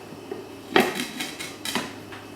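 A metal lid set onto a cooking pot on the stove, two or three close clanks and rattles in quick succession against a quiet background.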